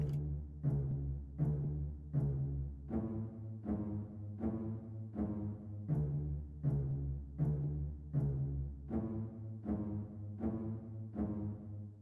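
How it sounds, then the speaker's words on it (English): A cello plays low bowed notes rocking back and forth a half step apart in a slow, even rhythm, each note swelling and fading, with no voices. "Moving along, we have the cello, working in half steps as well, just going back and forth, adding more tension."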